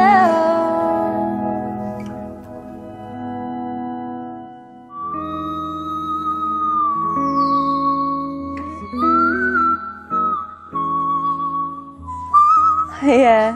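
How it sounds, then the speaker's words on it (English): A singer produces whistle register notes with her vocal cords: high, pure, sustained tones that glide and shift pitch, followed by a quick run of bright, piercing notes near the end. "it's called like whistle tone or whistle register, where you're basically whistling with your vocal cords."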